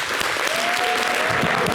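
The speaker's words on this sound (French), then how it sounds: "Merci de l'applaudir." A television studio audience claps steadily, with dense, even applause that holds at the same level for the whole short stretch.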